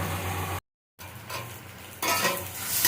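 Black yam leaves (kalo kochu shak) cooking in a pan with fish, a steady sizzle under scraping stirs, broken by a short silent gap, then louder frying toward the end; no talking.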